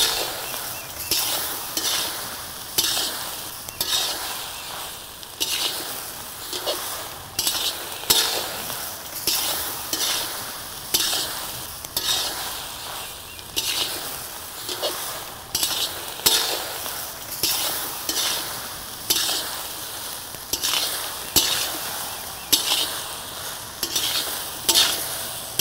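Chicken kabab frying with egg in a pan, stirred in a steady rhythm of scraping and clinking metal strokes over a continuous close sizzle that lasts the whole time.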